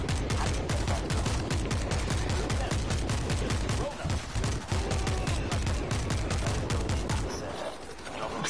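A mounted gun fires in World War Z, with sustained rapid automatic bursts continuing for several seconds, loud and close, before easing off at the end.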